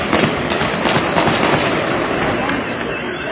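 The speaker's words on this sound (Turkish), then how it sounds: "Polis mi sıkıyor? Kim sıkıyor?" Gunshots ring out during a terror attack in Izmir: a rapid series of sharp cracking bursts, fairly loud and at some distance, mixed with people's voices talking and shouting nearby.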